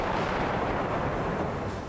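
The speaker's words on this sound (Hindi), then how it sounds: "यहां लगातार गोलाबारी की जा रही है।" Continuous rumbling barrage of artillery shelling on the outskirts of Donetsk, a dense, loud roar of distant booms blending into one another without a break.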